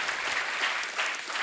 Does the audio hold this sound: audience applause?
yes